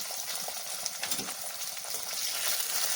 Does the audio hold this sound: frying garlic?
yes